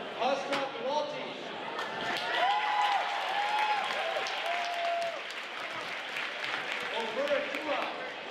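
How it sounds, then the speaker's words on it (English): A school gym crowd at a winter pep rally applauds student champions, steady clapping mixed with cheers and some talk, moderately loud and continuous, with a few sharp bangs. "We're going to give you a round of applause at the end here."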